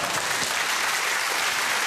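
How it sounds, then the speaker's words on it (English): A studio audience at the QI panel show claps in a steady, full round of applause, the dense patter of many hands continuing evenly without any talk. "That's the most uncertain round of applause."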